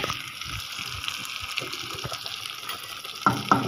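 Eggplant fries in oil, sizzling and crackling steadily in a pan, with two brief clinks of a utensil near the end.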